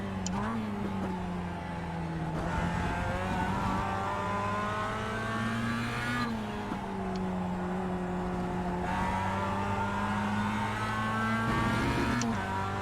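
A Mazda MX-5 Cup race car engine in the iRacing simulator lapping Okayama International Circuit drones continuously and loudly, its pitch rising and dipping with shifts and throttle changes throughout.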